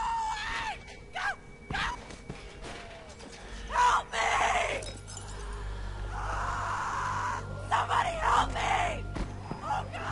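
A scream in The Walking Dead video game, with harsh strained cries and groans rising and falling over a low rumble, loud and close, with voices mixed in.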